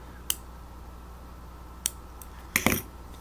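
Small scissors snipping crochet thread up close, a few sharp separate clicks spaced out, the last as a quick double snip.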